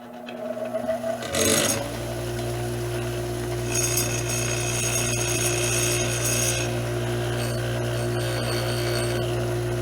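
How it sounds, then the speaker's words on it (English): Freehand grinding of Kawasaki motorcycle engine valves produces a steady, close abrasive whine from a power grinder, with a harsh rasping burst near the start that gives way to continuous high-pitched grinding throughout. "here is going to be my attempt to grind these valves, guys. Freehand."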